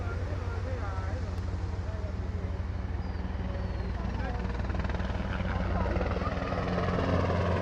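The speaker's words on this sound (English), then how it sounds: "Helicopter just coming in, and so he's going to do a bit of a swing over the beach there." A helicopter swings in over Manly beach in Sydney, a steady low rotor drone and engine whine holding at moderate distance throughout, with faint voices underneath.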